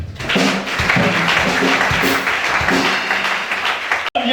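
A church congregation applauding steadily throughout, a dense sustained clatter of many hands that stops abruptly just before the end.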